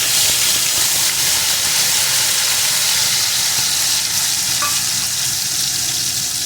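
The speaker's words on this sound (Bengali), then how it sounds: "এখন এই মশলাটা সুন্দর করে বেশ কিছুক্ষণ ধরে কষিয়ে নেব" A paste of one medium onion, four garlic cloves and four green chillies frying with prawns in a pan for prawn malai curry, giving a loud, steady sizzle and hiss that runs unbroken throughout.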